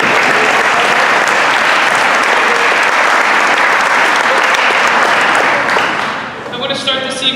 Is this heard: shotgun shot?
no